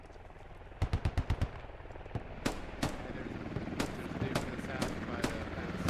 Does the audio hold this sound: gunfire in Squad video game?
yes